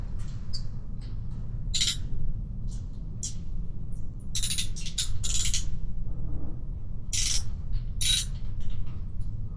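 Ratchet loosening the oil filter cover bolts on a Suzuki TU250X motorcycle: a few short bursts of quick clicking over a steady low background rumble.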